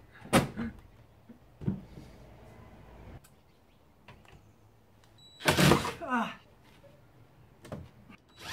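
Kitchen door being remounted on a bus: scattered bangs and knocks of the door being handled and fitted, a few sharp thuds, with a person speaking in between.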